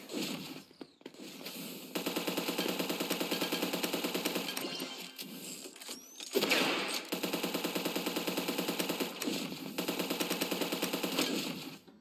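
Rapid sustained gunfire from a shotgun in the online shooter ev.io, loud and close, with dense repeating bursts that run across most of the stretch, broken by a few short gaps.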